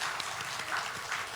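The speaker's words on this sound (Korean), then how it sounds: "박수하겠습니다." A church congregation applauds during a Korean Sunday worship service at Sangmyung Church, a brief, dense patter of clapping throughout.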